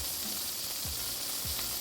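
Burger patties sizzling on a hot surface, a continuous close hiss of fat with a few soft low thumps scattered through it.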